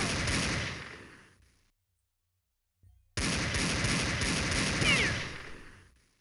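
Gunfire in Counter-Strike with a sound plugin, loud dense bursts of shots with a brief near-silent gap before another sustained burst, no talk over it.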